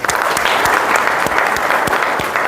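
A crowd at a Jat community gathering applauds steadily and loudly, dense close clapping filling the whole stretch with no pause.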